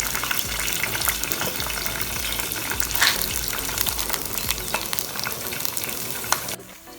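Soya beans fry in hot cooking oil with a loud, dense, steady sizzle that fills the whole stretch, with faint scraping of stirring, before dropping off abruptly near the end.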